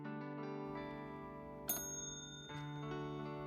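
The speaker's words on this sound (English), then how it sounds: "Robin, I got a bell like yours." A small decorative bell, the same kind as a friend's, rings several times at home, with bright sustained tones repeating and ringing on, plus a sharper strike partway through; no one speaks.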